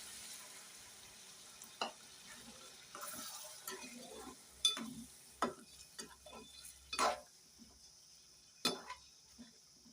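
Chicken curry with tamarind leaves cooking in a pan, giving a faint, low sizzle with scattered soft clinks and scrapes of stirring, quiet and close, with no voices.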